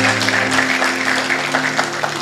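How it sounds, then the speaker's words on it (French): A congregation at a prayer service applauds loudly, with dense, continuous clapping from many hands that fills the room throughout. "On acclame très fort"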